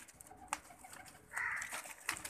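Faint pigeon cooing with a soft warbling call in the middle, set against light background noise and a few scattered clicks.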